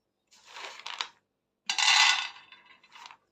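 Peanuts roasting in a pan on a gas stove: two short bursts of dry rattling and scraping as the nuts shift against the metal, quiet and close, with no talking.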